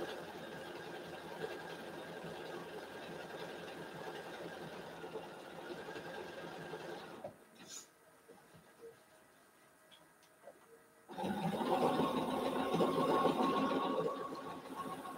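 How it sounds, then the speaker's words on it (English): A Bernina sewing machine running hot during machine quilting, a steady mechanical whir that stops briefly near the middle, leaving quiet room sound, then resumes louder and faster. "my machine, my Bernina, which I love, gets hot when I do all of this machine quilting"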